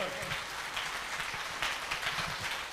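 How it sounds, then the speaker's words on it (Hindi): A standing audience at a motivational talk claps loudly in a brief burst of dense applause, with some crowd noise mixed in. "खड़े होकर के एक जोरदार ताली इनके स्टोरी के लिए, एक जोरदार ताली दोस्तों।"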